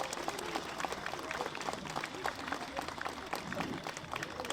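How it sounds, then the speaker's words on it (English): Scattered clapping from an audience at an outdoor Memorial Day ceremony in Livermore, California, fairly faint and distant, with some indistinct crowd murmur underneath. "Another round of applause for that."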